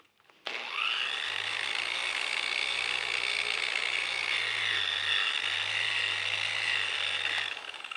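A rotary polisher spins steadily on wet automotive tempered glass at roughly 2000 RPM, a continuous high whine with a low motor hum underneath, starting abruptly and running loud and even for about seven seconds.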